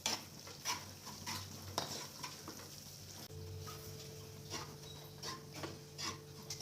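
One cup of amaranth flour roasts in hot ghee in a pan over medium heat for a sweet shiro, with a continuous soft sizzle and repeated scraping strokes of stirring close up.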